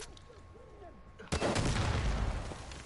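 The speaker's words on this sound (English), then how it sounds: "there's Yetis all outside that are trying to shoot everyone" Gunfire in the Far Cry 5 video game during an arcade challenge, a sudden burst of heavy, rapid shots that erupts after a quieter moment with faint chirping sounds and continues loudly to the end.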